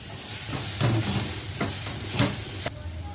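Methi bhaji with crushed roasted peanuts being stirred and fried in a pan, rhythmic scraping strokes over a steady close sizzle.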